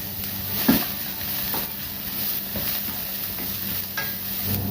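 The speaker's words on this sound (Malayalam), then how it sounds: "ഇനി ഇതിലേക്ക് 1 സവാള ചോപ്പ് ചെയ്ത്, ഇതിലേക്ക് കുറച്ച് ഉപ്പ് കൂടി ചേർത്ത് നല്ലപോലെ ഒന്ന് സോട്ട് ചെയ്തെടുക്കാം" Chopped onion with salt sautéing in a pan for a restaurant-style Chicken 65, a steady close sizzle with a few sharp spoon-on-pan stirring knocks, no talking.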